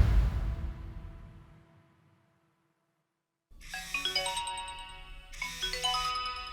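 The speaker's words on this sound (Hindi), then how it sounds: "उनका मोबाइल बजता है।" A mobile phone ringtone chimes in two bright melodic bursts after a fading low rumble and a brief silence, clear and close, with no talking.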